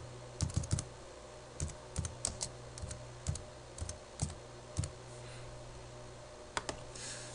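Scattered keystrokes on a computer keyboard while a custom probe description is entered in PicoScope 6 software, irregular clicks in short bursts with pauses over a steady low hum, no talking.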